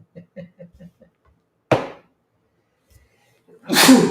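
A few short muffled vocal sounds, then a sharp sneeze burst, a pause, and a second, longer sneeze, loud and close.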